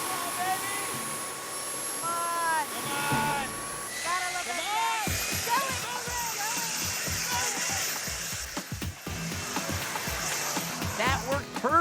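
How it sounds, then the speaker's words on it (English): A jet engine roars steadily behind a sailboat, pushing it forward in an extreme blow-your-own-sail test, a broad continuous rush with whining tones, overlaid by people talking and shifting bursts of noise. "I think this jet engine is going to give us adequate speed"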